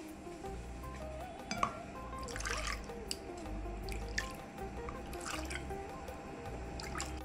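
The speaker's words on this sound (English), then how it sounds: "Now to this we add 1/2 cup water." Half a cup of water poured into curd for a Kerala moru curry, with soft trickles and drips in a kitchen, fairly quiet against a low background hum.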